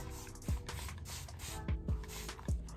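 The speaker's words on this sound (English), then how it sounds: "So I'm gonna spray it with some water." A hand-held water spray bottle mists hair during a loc wash day, with several short, crisp spritzes, each opening with a soft trigger click, repeating at irregular intervals close by.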